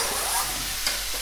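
Chopped pepper hitting a pan of cooked garlic, giving a steady close sizzle and fry with a faint stir scrape, alone without talk.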